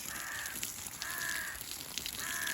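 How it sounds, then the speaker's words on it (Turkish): Crows cawing in the morning near a garden where sheep are kept, giving three drawn-out caws at steady intervals over an outdoor hiss. "Kargalar çok ötüyor bu sabah ya."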